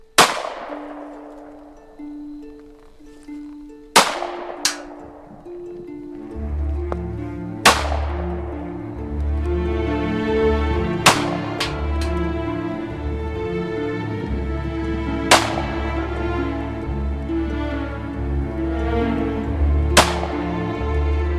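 Gunshots ring out at a shooting range, a dozen or so sharp loud cracks fired singly at irregular intervals, each with a ringing tail, and a low rumble of activity beneath.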